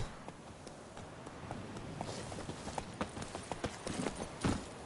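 Horse hooves clip-clop at a quick, uneven pace in a video game, moderately close and fairly soft, with no talking over them.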